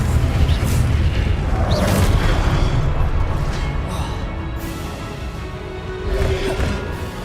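Confringo fire spell blasts in the Hogwarts Legacy video game, heavy booming and crashing impacts with whooshes rolling continuously and loud throughout, swelling again near the end.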